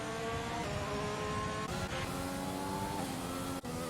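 Onboard view of a race car in a racing video game at the Austrian Grand Prix, its engine whining steadily at high revs with a few brief gear-shift dips, loud and close, with no speech.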